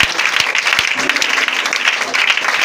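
A church congregation breaks into loud, dense applause, many hands clapping together close by in a steady roar for the full stretch, with no voices rising above it.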